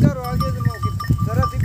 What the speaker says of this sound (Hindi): ये भेड़ का दो बच्चा है, दोनों चुंगड़ मारे हैं।